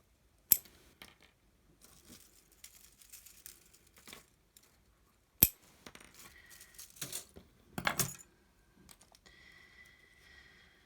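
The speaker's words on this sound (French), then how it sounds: "Je vais en couper plusieurs." Scissors snip paper while a Christmas card is being made: quiet, scattered crisp cuts and paper rustles, with two sharp clicks standing out, no talking.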